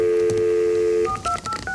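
A 1994-era telephone storing 200 numbers auto-dials, first a steady tone, then a rapid run of short, loud, evenly spaced DTMF beeps.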